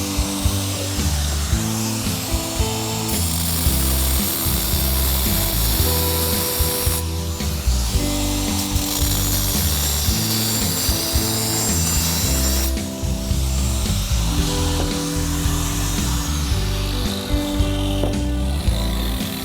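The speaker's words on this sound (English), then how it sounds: "this is a continuous rim grinder" Continuous rim grinder cutting large format tile, a steady loud whining grind that runs throughout, with abrupt pitch changes as the blade bites and eases.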